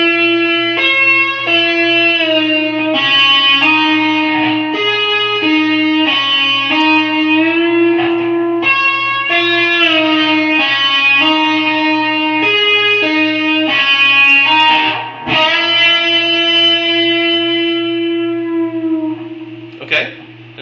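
Slow, sustained electric guitar lead lines from a song, with distortion and bends, played deliberately at reduced speed over a faint steady hum, loud and close, with a quick dip near the end.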